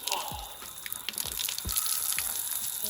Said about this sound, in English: we are going to fill this bucket without holes with water